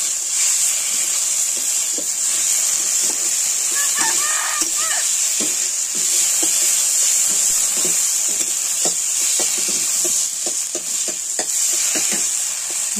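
Potatoes with ground gandhal leaves and turmeric fry in a pan with a constant bright sizzle, broken by repeated scraping and stirring knocks from a spatula throughout.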